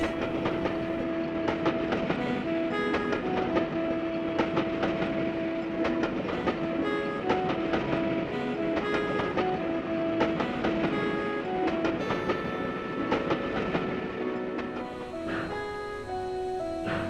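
A train rolls along rails in Garry's Mod with a continuous rumble, rhythmic clickety-clack of the wheels and sustained tonal squeal or horn-like tones. It is loud and steady throughout, with no talk.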